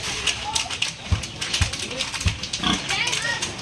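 Landrace gilt in heat grunting in short low bursts on a pig farm, with loud farm noise and someone talking throughout.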